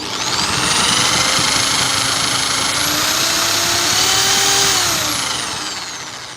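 A power drill spinning a DC motor in reverse whirs at high speed, its motor whine climbing and holding steady before easing off, loud and close with no talking.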